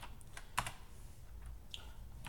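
A password being typed on a computer keyboard: a few soft, sparse key presses with one sharper tap, quiet and close against a faint steady hum.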